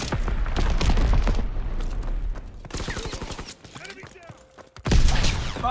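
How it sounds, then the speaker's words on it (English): Mortar strikes in a shooter video game land as a barrage of heavy booms and thuds, dense and loud at first, then thinning to scattered bursts before one last big impact. "Sending mortar rounds, zone and sweeper."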